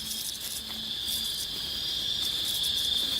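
A cricket in a spider documentary chirps in a loud, continuous high-pitched trill that holds steady throughout, close and with no voices.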